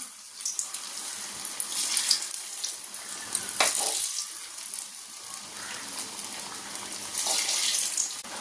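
Sesame banana fritters fry in hot oil, giving a steady, soft bubbling sizzle throughout with a brief clink partway, and no voices.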